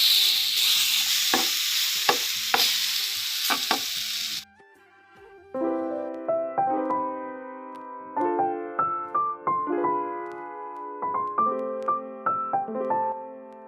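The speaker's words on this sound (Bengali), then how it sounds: "এখন আমি বেগুনগুলোকে ভেজে নিব। এই যে বেগুনগুলো সব দিয়ে দিই একটা একটা করে।" Eggplant slices sizzle loudly in hot oil for a few seconds, then the frying sound cuts out and gives way to melodic background music for the remainder.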